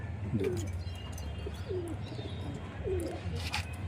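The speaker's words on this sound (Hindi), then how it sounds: "आप देखें कबूतर" Soft, low pigeon coos repeat a few times at a relaxed pace, with faint chirps and light background noise.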